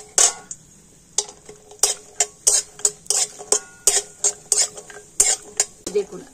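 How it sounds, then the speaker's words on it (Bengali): Cashews and almonds in a pan of ghee, cooked for a pilaf made with semolina: sharp, regular scrapes and clinks of a spoon stirring against the pan, about a dozen strokes close up over a faint sizzle. "আর এবার আমি ঘিয়ের মধ্যে দিয়ে দেবো অল্প কয়েকটা কাজু আর আলমন্ড বাদাম। তো ঘিয়ের সাথে অল্প একটু ভেজে নেব।"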